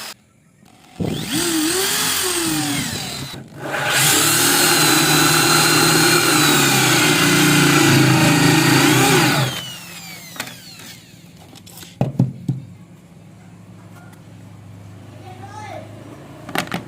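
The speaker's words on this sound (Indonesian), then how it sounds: "untuk lubang yang kecil-kecil ini kita kasih ukuran mata bor 4 mili" Power drill with a 4 mm bit boring small holes in woodwork, with two sustained loud whining runs of motor noise separated by a short pause, followed by clatter and a voice speaking.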